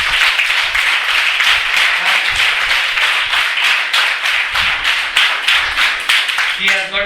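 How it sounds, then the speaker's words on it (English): A room of hotel management students claps vigorously, dense close-up clapping that holds steady for several seconds, with a voice breaking in at the very end. "Give him a big clap."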